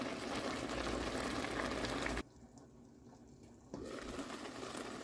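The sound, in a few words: collard greens steaming and hissing in an iron pot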